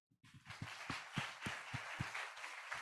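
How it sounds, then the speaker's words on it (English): Audience applause closing an awards launch event, sharp individual claps at first that quickly build into a sustained round of clapping from a small crowd. "Let's close with a big applause."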